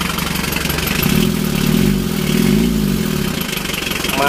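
A Mitsubishi L300 diesel engine idles steadily after its calibrated injection pump is fitted, giving a close, loud, even clattering throb with slight swells in pace.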